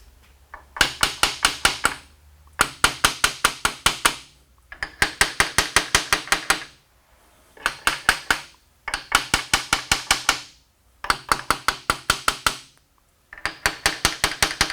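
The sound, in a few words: striking gear shaft with a brass hammer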